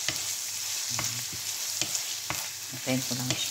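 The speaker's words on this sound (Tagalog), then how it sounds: "Gisa-gisa lang siya natin hanggat maganda. Magbabrown yung ating onion." Onions sautéing in a pan, a steady broad sizzle broken by scraping stir strokes and a few light utensil clicks, with a brief murmured voice over the frying.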